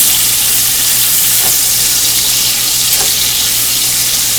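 Bacon frying in a pan, a loud steady hiss and crackle of hot grease that runs unbroken from start to finish, close and with no talking.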